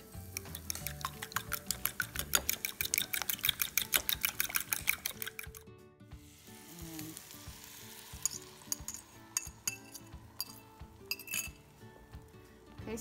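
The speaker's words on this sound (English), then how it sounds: "you'll hear it simmer when you pour the egg in" Farm fresh eggs frying in hot oil in a cast iron pan over medium heat, a steady sizzle with clinks of a utensil against the pan, rapid rhythmic tapping early on, then quieter bubbling.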